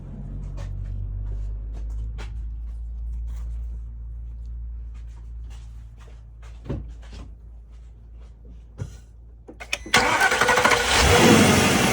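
A 2005 Porsche Cayenne S with a 4.5L V8 and a newly replaced purge valve cranks and fires up near the end, its engine surging loudly after a stretch of quiet idle-like rumble and a few clicks.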